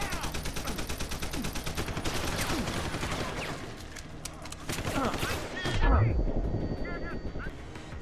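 Rapid bursts of gunfire fill a combat sequence in the first-person shooter Deus Ex: Human Revolution, near and loud, with a heavy low thump of an explosion near the end.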